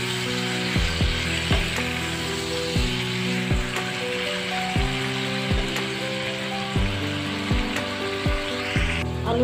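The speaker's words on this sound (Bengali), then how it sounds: "সেই তেলেই এখন আলু আর পেঁয়াজ ভালোভাবে ভেজে নেব।" Potatoes and onions frying in oil left over from cooking eggs, a steady sizzle under repeated sharp metallic scraping or clicking strikes at a regular rhythm, close and moderately loud.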